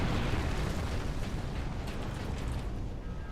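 Grenades burst in a Warhammer 40,000 battle against Orks, a dense, rumbling blast that starts loud and trails off over a few seconds.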